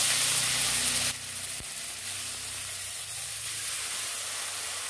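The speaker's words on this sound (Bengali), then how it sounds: "ফুলকপিগুলো ভাজা হয়ে গেছে" Boiled cauliflower fries in oil with cumin seeds in a kadai, a soft continuous hiss and sizzle after a brief louder burst at the start, faint and steady.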